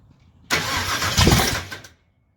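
A 1000 HP supercharged small-block Chevy in a front-engine dragster fires for the first time, a loud close burst of roaring engine lasting about a second and a half before it cuts off abruptly into silence.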